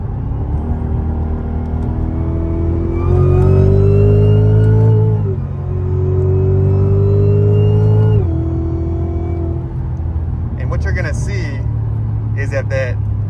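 Cadillac CTS-V running a roll race from 60 with paddle-shifted gears, loud and close, its engine note climbing through each gear with distinct shift breaks, then dropping to a rumble with some brief sharp noises near the end.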